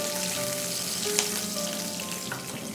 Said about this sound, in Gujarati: ને જીરાને ક્રેકલ થવા દેશું.